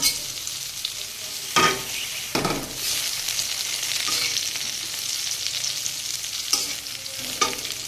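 Taro pieces fry in hot oil with bay leaf as a spoon stirs them, producing a continuous close sizzle broken by several sharp scrapes and clatters against the pan. No one speaks.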